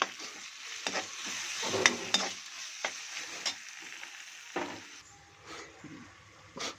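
Spoon scraping and stirring tomatoes with rock salt in a hot pan while cooking country-rooster pepper chicken, with intermittent clacks and a soft sizzle underneath, close and fairly quiet.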